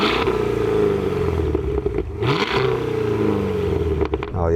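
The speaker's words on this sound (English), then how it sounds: "All right, Harry, we're going to have a bit of your exhaust." Car exhaust revving during a drag-race sound check, a close, throaty engine note that rises and falls through several blips with brief rattly flutters, no talk over it.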